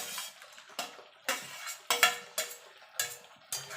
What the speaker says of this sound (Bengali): ইঁচড়টা দিয়ে ভালো করে মশলার সঙ্গে